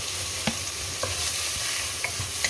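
Chicken sinigang with grated ginger and tomato is stirred in a pot: a gentle sizzle underneath a few soft, spaced utensil scrapes and taps against the pot.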